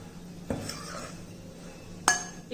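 Roasted corn flour is moved from a kadai into a bowl, with two distinct metal clinks of utensils against the vessels amid a quiet, faint background.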